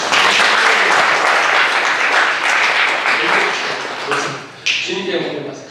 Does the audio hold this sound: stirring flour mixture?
no